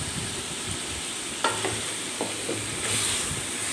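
Chicken being stirred with red chilli powder, coriander powder, turmeric, garam masala and green cardamoms in a pot for pulao, giving a steady close sizzle with a few sharp spoon scrapes and clinks and no voices.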